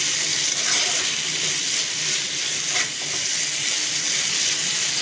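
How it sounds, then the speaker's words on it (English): Brinjals saute in masala in a pan, giving a steady, close sizzle and hiss with faint stirring scrapes throughout. "So the brinjals are nicely sauteing in the masala."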